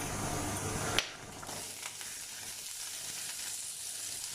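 Onions tipped into a hot pan of oil for Kerala kadala curry masala, a brief bump and then a steady, close sizzle and frying hiss with no talking.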